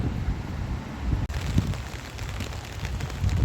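Heavy rain pours steadily onto a rooftop garden of potted butterfly pea and hibiscus plants, a dense, continuous hiss with a brief dropout partway through.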